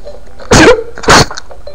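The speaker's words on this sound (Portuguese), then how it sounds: "Adeus, espirro louco aqui." Two sharp, loud bursts, a sneeze-like expulsion followed quickly by another, close to the microphone over a faint background hum.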